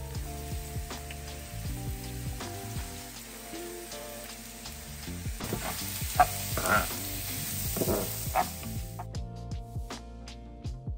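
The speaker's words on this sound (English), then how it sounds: "pour in about a tablespoon of oil into my pan, get it nice and hot, and then I will be adding the mushrooms and peppers and getting those cooked down" Mushrooms and peppers fry in a tablespoon of hot oil in a pan, a steady sizzle broken by stirring scrapes and pops, close and continuous.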